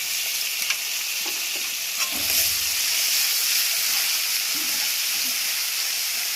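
Ginger garlic paste hits browned onions in a frying pan for a cauliflower and egg curry, giving a steady, close sizzle with soft stirring scrapes throughout and no talking.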